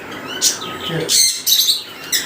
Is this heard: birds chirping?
yes